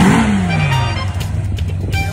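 A fire-damaged Ferrari that is still smoking after repair revs loudly up close, its engine note sweeping down after a sharp blip and then settling into a rough, throbbing idle.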